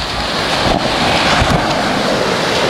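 Surf washes onto the sand at Toke Beach in Sierra Leone, where fishing boats rest near the water. A loud, continuous wash of waves is heavily mixed with wind buffeting the microphone.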